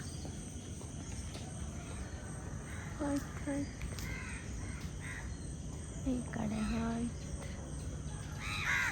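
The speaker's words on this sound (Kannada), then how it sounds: "ಹಕ್ಕಿಗಳೇ ಎದ್ದೇಳ್ಸುತ್ತೆ ನಿಮ್ಮನ್ನೆಲ್ಲ" Crows caw a few times in the background over steady outdoor ambience, with a brief spoken remark between the calls.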